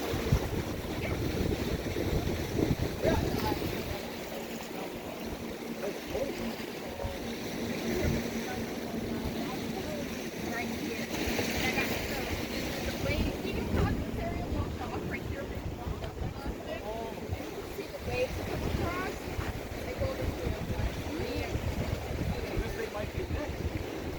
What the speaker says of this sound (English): See the waves are coming this way.